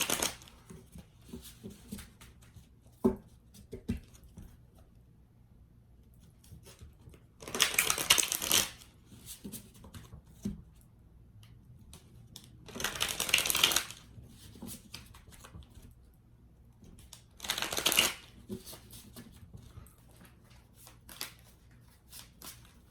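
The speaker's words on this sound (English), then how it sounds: "I'm going to pull the other cards and then do your reading." Waite Smith tarot cards are shuffled and drawn from the deck: three distinct bursts of riffling card shuffles, close and crisp, separated by quiet stretches with small taps and card handling, and no speech.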